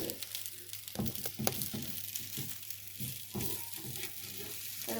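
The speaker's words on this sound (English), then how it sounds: "the rolled omelette is now halfway done, and just keep on tapping it like this" A Korean rolled omelette fries in a pan, a steady close sizzle running throughout with several soft taps and knocks of a utensil against the egg and pan breaking through at irregular moments.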